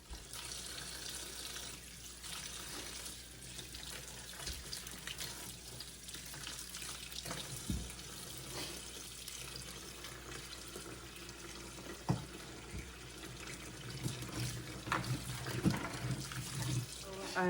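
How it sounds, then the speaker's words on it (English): Tap water running steadily into a kitchen sink to fill it, a continuous close rushing and splashing with a few faint clinks and knocks underneath. "we are just going to fill the sink,"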